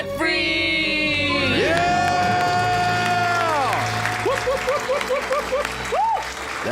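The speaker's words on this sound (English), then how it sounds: "Let's hear a debt-free scream." A live audience erupts in cheering, whoops and applause at a debt-free scream event, a loud, sustained crowd roar over prominent background music.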